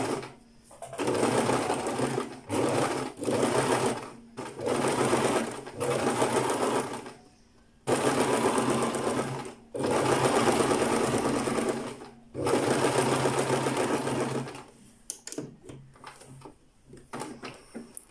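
Close, loud whirring of a sewing machine stitching a decorative embroidery pattern along the edge of thin fabric with a guide bar, running in several bursts broken by short pauses, ending in quicker stop-start stitching.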